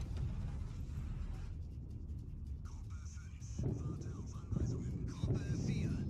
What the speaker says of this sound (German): Und da sind die Torpedobomber wieder unterwegs.